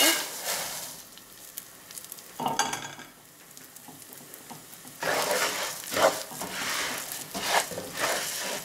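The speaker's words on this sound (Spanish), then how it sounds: "aquí mismo con la grasita vamos a freír ahí el arroz agregamos el arroz" Rice frying in chicken fat in a pan for red rice with chicken gives a soft, steady sizzle, with louder bursts of stirring scrapes as the grains are moved around.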